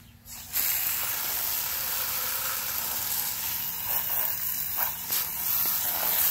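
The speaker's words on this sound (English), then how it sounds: "Take the hose and spray that stuff off." A garden hose sprays water onto a bagless vacuum cleaner's dust bin, a steady broad hiss starting abruptly and running unbroken at close range.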